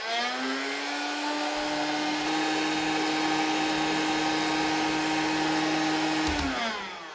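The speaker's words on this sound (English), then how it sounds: "I'm just going to turn my heat gun onto high heat" A heat gun running on high heat while hard tubing for PC water cooling is bent, a loud steady blowing whine that holds for several seconds and then winds down, close with no talking.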